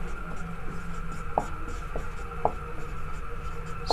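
Writing a maths statement on a board: scratchy strokes come close and steady, with a few sharp taps of the writing tip standing out and no talk over it.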